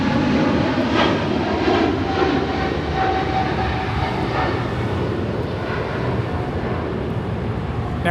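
A Boeing 777-300ER jet at LAX airport roars steadily with a broad engine rumble and hiss, heard from a distance and continuing unbroken.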